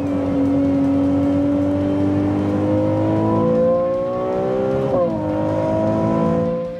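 A Ferrari 296 GTB's V6 engine revs loud and close, its pitch climbing steadily as the revs rise, dipping briefly, then climbing again, with a high, shrill tone throughout.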